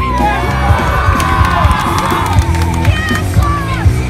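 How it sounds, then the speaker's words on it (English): Spectators at an outdoor skatepark competition cheer and whoop after a winner is announced, a loud mix of shouts, yells and clapping with rhythmic thumps underneath, close and sustained across the whole stretch. "Yes, round of applause."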